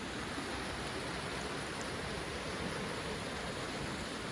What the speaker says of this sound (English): The noise that you can hear is the river.